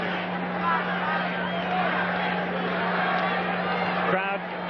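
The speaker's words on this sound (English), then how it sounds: "about 50 or 100 chanting Charlie, Charlie, trying to get the rest of them stirred up" A crowd at a baseball stadium during Game 6 of the 1985 World Series, Cardinals at Royals, chants a name over a constant roar of many voices. A low steady hum runs underneath, and the mass of voices stays loud and continuous throughout.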